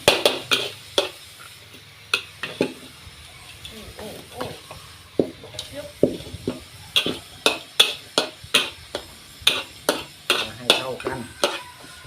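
Spatula scraping and tossing a chicken stir-fry with oyster sauce and pickled bamboo shoots in a pan, a steady rhythm of sharp, close clanks over a soft sizzle.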